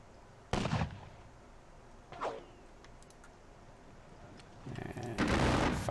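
Infantry musket volleys ring out in a Napoleonic battle video game: three separate crackling bursts, each a ragged ripple of shots. The last is longer and louder, and there is no talk.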